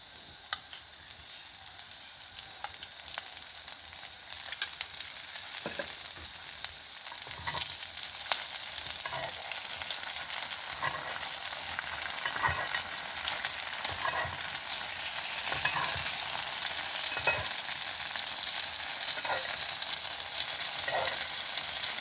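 Paddu batter frying in ghee in a paddu pan, with a steady crackling sizzle that builds slightly and carries faint stirring ticks, no one speaking.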